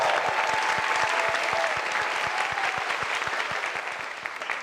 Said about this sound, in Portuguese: Nossos aplausos para vocês também.